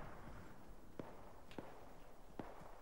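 Scattered gunfire in Arma 3, three sharp distant cracks spaced irregularly over a low rumbling background, faint and far off.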